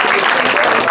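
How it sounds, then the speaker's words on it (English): Applause for a performer at a literary night during a fringe arts festival, a steady broadband patter of clapping from a small audience that fills the whole moment. "a big applause for yourself after Barry McKinley"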